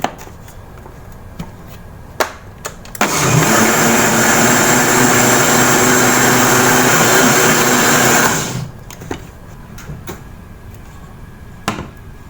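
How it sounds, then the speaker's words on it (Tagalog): A kitchen blender whirs loudly for about five seconds as it purées lasagna sauce ingredients, cutting in sharply and stopping abruptly, with a few faint clicks and knocks before and after. "So, ilagay na natin siya sa blender at atin na siyang i-blend."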